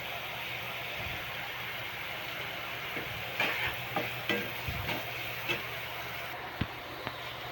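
Onions with a little salt fry in a pan for soybean bhurji, making a soft, low sizzle with faint spatula clicks and taps scattered through the middle.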